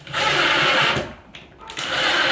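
A power drill drives a screw into a window blind bracket in a short whirring burst that dips briefly midway and then resumes, close and fairly loud.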